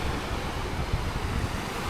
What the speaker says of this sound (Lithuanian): Ten kokios bangelės.